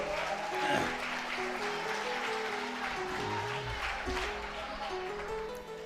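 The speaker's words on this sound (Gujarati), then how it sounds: "વગાડો તાળી એકવાર" Applause from the audience at a kavi sammelan (poetry gathering) at a Swaminarayan Gurukul in Bhayavadar, a steady sustained clapping from a seated crowd filling the whole stretch with a few low voices mixed in.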